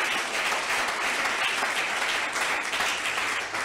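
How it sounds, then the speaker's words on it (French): A church congregation applauds and cheers steadily throughout, a dense, loud wash of clapping with no pauses. "Je veux que tu acclames tout ça. Acclame bien."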